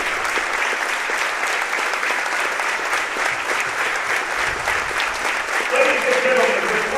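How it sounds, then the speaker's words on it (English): A huge, steady round of applause fills a gym at a holiday basketball tournament awards ceremony, dense crowd clapping that runs unbroken throughout, with a few voices and cheers faintly mixed in. "As he gets a huge round of applause"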